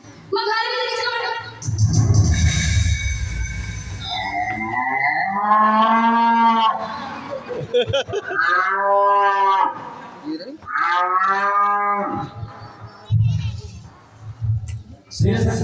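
A cow moos several times in long, loud drawn-out calls, close by, with a voice speaking in between and over the lowing.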